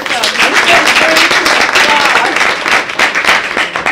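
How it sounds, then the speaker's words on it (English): A studio audience at a Dallas television show breaks into applause, a loud, dense burst of clapping with voices speaking over it throughout. "We're going to applaud too because we have an audience here."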